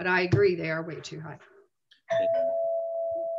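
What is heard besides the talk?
doorbell ringing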